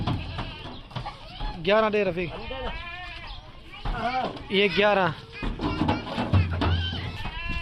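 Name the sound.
goats bleating while loaded into cargo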